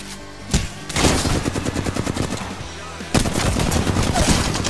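Rapid automatic gunfire in the video game Apex Legends, loud sustained bursts of repeated shots with a brief pause near the start and another hard burst after three seconds, with a voice under the firing.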